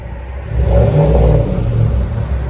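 A 2020 Chevy Silverado Z/71 with a 5.3L V8 and Flowmaster Super 10 dual exhaust revs up close and loud, rising to a deep, rumbling hold before easing slightly, with no talking.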